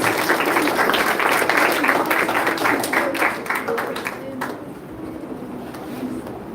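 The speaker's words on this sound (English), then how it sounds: "Can we give her a round of applause" Dense, loud applause fills a primary school transition ceremony hall for the Award Education Officer, many hands clapping steadily, then thinning and quieting toward the end.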